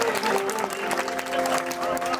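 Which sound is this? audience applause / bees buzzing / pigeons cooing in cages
audience applause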